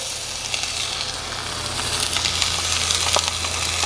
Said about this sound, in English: then we're ready for the next step, which is to saute the vegetables